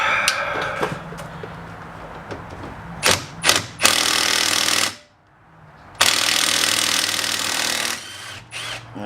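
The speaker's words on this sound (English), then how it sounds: "Now, next step is to remove this bolt here, the caliper bolts" An impact gun or power drill backs out the caliper bolts on a Jeep Grand Cherokee, with loud, close bursts of hammering whine, a brief silence between the two main runs, and a few shorter clanks and taps around them.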